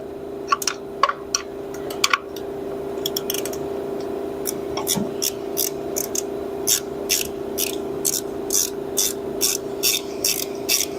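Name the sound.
wrench being used on John Deere snowthrower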